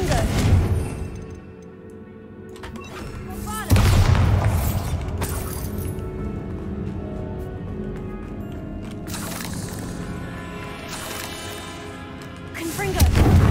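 Fire-spell blasts in the Hogwarts Legacy video game: two loud booming bursts, one near the start and one just before four seconds, with a third rising at the end over a continuous bed of game music and effects.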